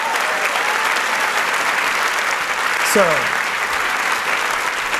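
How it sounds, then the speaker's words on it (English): Festival audience applause, a steady wash of clapping filling the room with a brief whistle near the end, while a voice speaks over it. "Andy and Andy deserve a round of applause right now for an amazing show"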